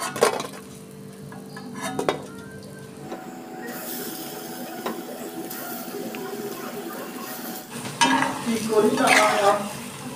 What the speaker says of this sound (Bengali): দেখুন এইভাবে আমি সব বড়াগুলো ভেজে তুলে নিচ্ছি